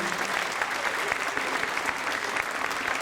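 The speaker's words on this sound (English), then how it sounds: "give another huge round of applause" A dense, continuous wash of audience applause at a fifth grade spring school concert, loud and even from start to finish.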